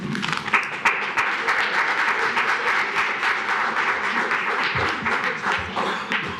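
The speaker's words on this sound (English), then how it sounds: "we're not supposed to clap after public comment" Audience applause at a Royal Oak city commission meeting after public comment, many hands clapping steadily and fairly loud across the whole stretch, with a few brief voices mixed in.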